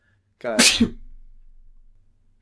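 A single loud, close sneeze from someone in a casual recorded conversation, a sharp voiced burst that trails off into a softer breathy tail, with a brief spoken word just after.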